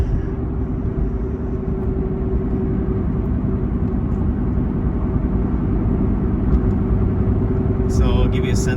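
A 2011 Corvette Grand Sport convertible with a six-speed manual drives on a road, its steady engine drone filling the clip at close range with little change in pitch, and speech briefly heard near the end.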